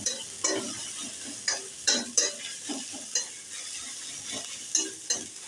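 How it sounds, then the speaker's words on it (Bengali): Ginger and garlic frying in a pan, crackling under a spoon that stirs and scrapes in repeated sharp strokes, close by over a low sizzling bed. "এরপর দিয়ে দিলাম আদা রসুন। ভালো করে আমি ভেজে নিচ্ছি।"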